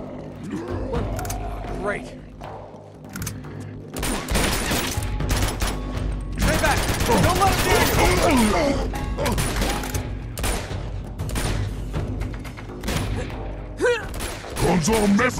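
Gunfire in the video game Uncharted 2: rapid bursts of shots and heavy impacts crackle through a chaotic battle din with roaring and mechanical noise, while a voice shouts over the action.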